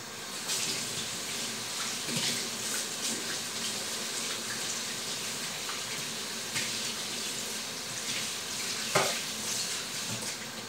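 Prawns and turnip cooking in a pan, a continuous faint sizzle with scattered clinks and scraping stirs from a utensil against the pan, close up and with no talking over it.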